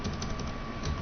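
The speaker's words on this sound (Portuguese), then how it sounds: "vou digitar" Continuous keyboard typing on a computer while entering a spreadsheet formula, a dense, steady clatter with no pauses.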